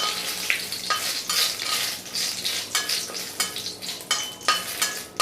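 Dried red chilies and bay leaves are stirred in hot oil in a pan while a chickpea curry is made, with a soft sizzle under repeated scraping strokes of a spoon close by. No one speaks.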